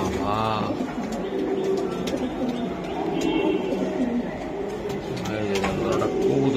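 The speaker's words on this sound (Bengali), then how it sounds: "কবুতর দেখেন বাঘের মতন গর্জন মারতেছে" A pet pigeon coos loudly at close range, its low rolling calls repeating over a busy background of other birds, with a voice talking briefly nearby.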